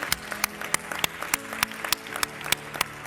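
Applause from a small audience at a debate competition awards ceremony, with distinct sharp claps standing out at a fairly regular pace over a softer bed of clapping.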